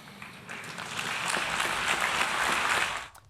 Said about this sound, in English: Pause for applause, which eventually came.